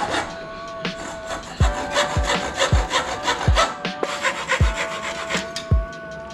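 A saw cutting through a bike part in a bike-fitting shop, with repeated rasping strokes in a steady back-and-forth rhythm, close and fairly loud, with sharp knocks at intervals and no talk.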